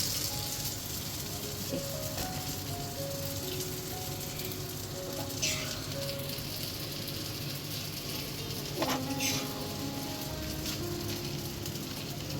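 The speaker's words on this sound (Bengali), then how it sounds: "টিকিয়াগুলো ভেজে নিচ্ছি" Tikia patties frying in oil make a steady, dense sizzle with occasional crackles and pops, heard up close in a home kitchen over a faint background hum.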